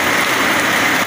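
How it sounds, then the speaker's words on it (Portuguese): Rain on the Pernambuco coast, with a street flooded by the downpour: dense, loud, even hiss of heavy rainfall hitting surfaces, steady throughout with no voices. "Então a chuva no litoral não é interessante como a chuva"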